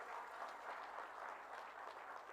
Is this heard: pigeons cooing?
no